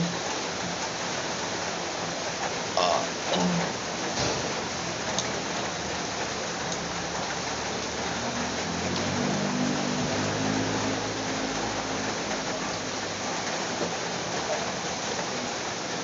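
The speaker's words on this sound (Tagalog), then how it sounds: "Lakas pa rin ang ulan." Heavy rain pours in a steady, dense hiss throughout, with a few brief knocks and faint voices beneath it.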